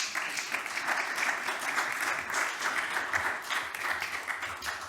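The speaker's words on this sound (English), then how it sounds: "And we can give them a round of applause." An audience at a panel discussion on Europe's recovery, part of the Competitive Europe Summit, applauds its panel speakers: dense, steady clapping that fills the room evenly from start to finish, with no voices over it.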